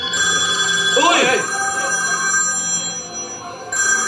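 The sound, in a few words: telephone ringing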